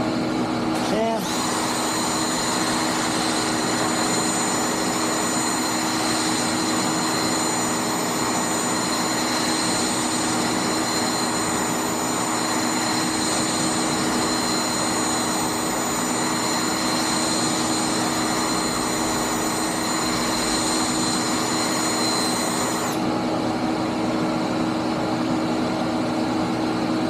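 A wooden dowel spinning in a homemade dowel-making jig driven by a power tool while sandpaper is held against it, a loud continuous motor whine with a steady gritty hiss that stays level for the whole stretch, then changes tone near the end.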